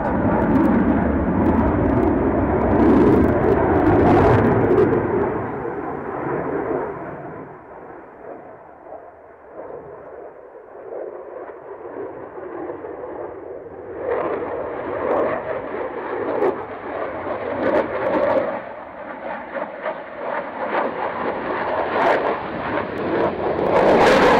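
An aircraft performs at an air show near the end of the runway with a loud, rumbling engine roar. The roar swells and fades as the aircraft passes, then builds again, with no talking.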